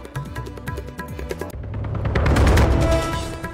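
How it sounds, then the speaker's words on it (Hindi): Israeli airstrikes on Beirut, Lebanon produce a rapid series of sharp blasts and cracks, followed by a heavier, rumbling explosion that swells and lingers. "लेबनन के बेरूत में जारी है इसराइल के हवाई हमले"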